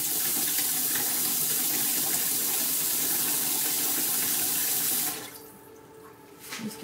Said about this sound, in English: Whenever I turn the water on.